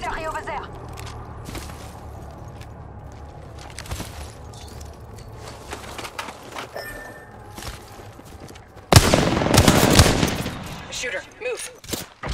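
Gunfire in the Wraith shooter video game pops in scattered sharp shots, then erupts into a loud, dense burst near the end, with voices talking throughout.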